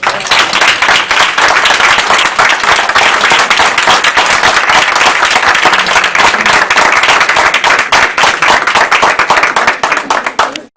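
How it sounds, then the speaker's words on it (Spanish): Loud, dense applause from an audience at a book-fair talk in Guadalajara, many hands clapping continuously and close, sustained for about ten seconds before cutting off abruptly. "un aplauso por Huberto Vázquez"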